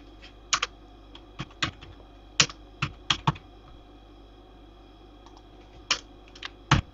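Clear, close keystrokes on a computer keyboard come in irregular clusters, with short pauses between groups, as a verification code is entered on a quiet background.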